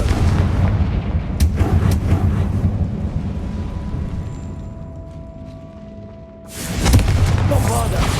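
In the Hogwarts Legacy video game, a Confringo spell blast sets off a heavy, rumbling boom that rolls on for several seconds, with a second sharp burst near the end and a voice speaking over it.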